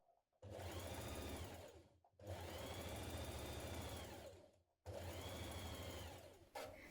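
A domestic sewing machine stitches the side seams of a blouse in three loud, close bursts of rapid whirring, each lasting about two seconds, separated by short pauses.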